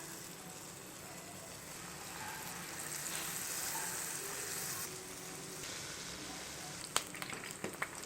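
Pazham appam batter fries on a low flame, a continuous gentle sizzle of oil running throughout, with a few light utensil clicks near the end.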